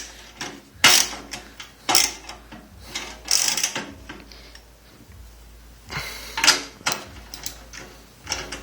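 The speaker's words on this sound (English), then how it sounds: "Get this one tightened down," Metallic ratcheting and clanking as a bolt is tightened down on a racing mower during fender work, several bursts of mechanical clicks with pauses between them, close by and with no talk.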